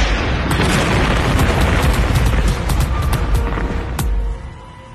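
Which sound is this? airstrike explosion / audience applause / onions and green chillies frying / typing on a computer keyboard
airstrike explosion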